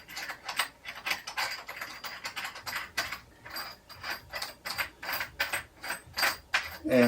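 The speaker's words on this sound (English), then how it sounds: "I usually just go around and finger tighten them" Repeated ratcheting, clicking turns of tension rods being finger-tightened on new drum heads of a DW acrylic drum kit, a steady series of close, short mechanical bursts with brief gaps.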